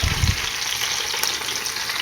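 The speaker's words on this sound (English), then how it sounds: "They get to sizzling real good." A steady, bright sizzle of lamb chops frying in hot butter, with a brief low thump at the start and no talking.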